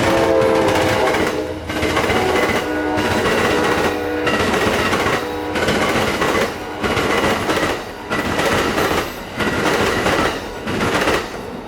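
An Amtrak passenger train rushes past close by in west-central Florida, with a loud steady roar and a regular clatter of wheels over rail joints, fading slightly toward the end.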